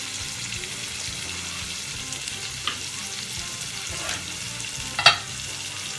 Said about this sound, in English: so dumplings are boiling.